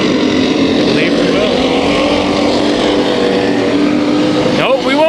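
Race cars run three wide in a heat race at Kings Speedway, a dense, loud roar of engines droning together, with an announcer talking over the noise.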